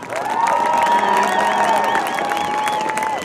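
A crowd cheers and applauds for a high school Hall of Fame induction class at a Sparta High School varsity football game, with whoops and shouts rising over steady loud clapping that fills the whole span.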